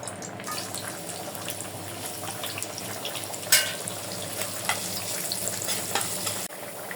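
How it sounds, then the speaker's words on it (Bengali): Chopped onion and garlic hit hot oil for tempering, producing a close, steady sizzle with a sharp spatter burst midway and scattered stirring clicks, no voices present. "আমার তেলটা গরম হয়ে গেছে পেঁয়াজ রসুন দিয়ে দেবো"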